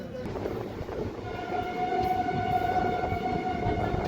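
A passenger train pulls out of Sangola railway station and picks up speed, a steady, loud rumble of wheels and carriages building in intensity, with a sustained high whine rising over the rolling noise.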